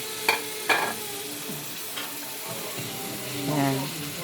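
Potatoes and carrots drop into a frying pan with a couple of sharp clacks, then a moderate sizzle continues with light stirring scrapes and faint watery sounds.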